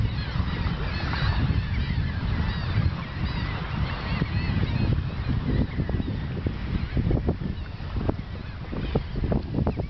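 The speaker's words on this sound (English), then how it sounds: "there's nesting pelicans and terns and laughing gulls" A seabird nesting colony of pelicans, terns and laughing gulls on a bay island, with dense overlapping calls and honking cries filling the scene continuously, alongside low wind or water rumble.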